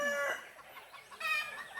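A chicken clucks and squawks in a few short bursts, close and clear, with no talking.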